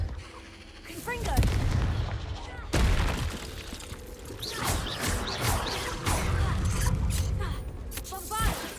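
Bombarda, Depulso and Confringo spells go off in quick succession in Hogwarts Legacy, a string of crashing, crackling blasts and thuds with whooshing shimmers, loud and close over continuous game noise.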